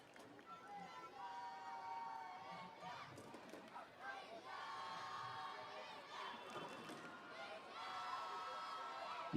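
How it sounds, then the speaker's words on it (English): A football stadium crowd at an India vs Iran AFC U17 Asian Cup qualifier roars and chants continuously. The sound is distant and fairly faint, a sustained wash of many voices with rising chant-like calls. "You can hear the crowd roar"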